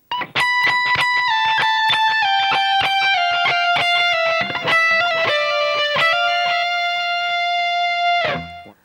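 Distorted electric guitar plays a lead phrase from a solo, a rapid run of picked and hammered notes sliding gradually lower before ending on a held note that cuts off, loud and close with no voice.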